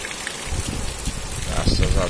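Heavy rain falling on a Saturday in Caucaia, Ceará, with a steady wash of water noise and runoff spilling from a spout, close by, while someone talks over it.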